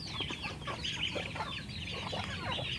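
Farm chickens cluck in a steady overlapping chatter, close and fairly loud, with repeated short calls filling the whole stretch and no voices over them.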